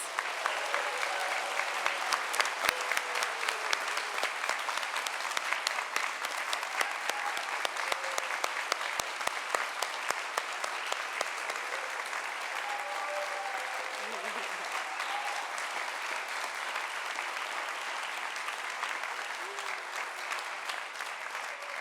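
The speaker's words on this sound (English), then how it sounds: "How about a big round of applause for all of our graduates?" Sustained audience applause for graduates at a commencement send-off ceremony, a large crowd clapping steadily and evenly for over twenty seconds with faint voices underneath.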